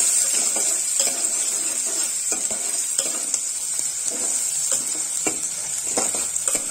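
Chopped onions fry in a pan for a bottle gourd curry, a constant bright sizzle broken by repeated scraping strokes of a spoon stirring them, close and steady with no talking.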